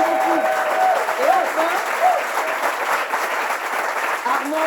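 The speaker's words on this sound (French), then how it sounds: "on applaudit très fort pour Armel" Studio audience applauding a contestant on a Bible quiz show semi-final, steady sustained clapping throughout with a few brief voices and whoops mixed in.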